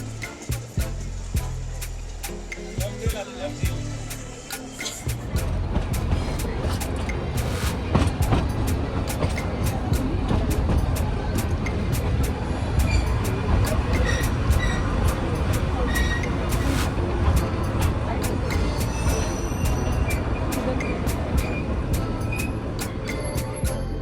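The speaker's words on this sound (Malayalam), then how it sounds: "അടുത്ത ടണലിലേക്ക് കയറാൻ ട്രെയിൻ, ചെറിയ ടണലിലാണ്." The Ooty to Coonoor heritage mountain train runs through short tunnels, a continuous loud rumble and clatter of wheels on rails heard from on board, swelling after a few seconds, with people talking over it.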